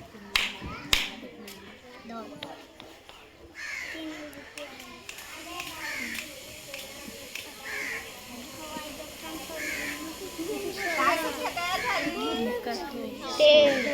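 Schoolchildren in a village primary school snap fingers and clap in unison for a number-recognition exercise, sharp clicks and claps in bursts amid children's voices and an adult speaking, with a crow cawing in the background.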